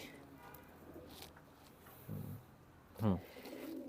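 A pair of red-necked pigeons of an old traditional breed coo twice in short low bursts, close by against a quiet background.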